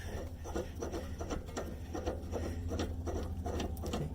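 A rear upper control arm bolt on a Honda Civic Type R is wound off, giving a steady, close run of soft rhythmic ratcheting clicks over a low background hum.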